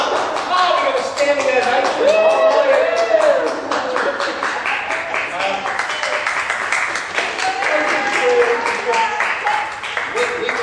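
Theatre audience applauding at the end of a Comedy of Errors performance, dense steady clapping filling the room throughout, with voices and calls mixed in beneath.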